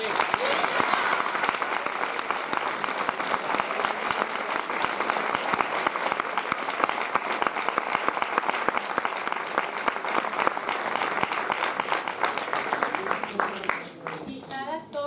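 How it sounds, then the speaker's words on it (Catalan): Sustained audience applause fills the hall at the close of a Valencian miracle play for Sant Vicent Ferrer at the Altar in Riba-roja, dense steady clapping lasting throughout before thinning briefly at the end. "I si voleu aplaudir-nos, remei, millor que millor"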